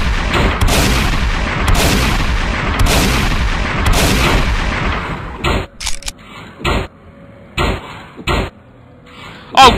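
Heavy gunfire from the zombie video game Vanish Rain comes in loud, booming blasts, first as a dense run of repeated shots, then as sharper, separated reports with brief silences between them.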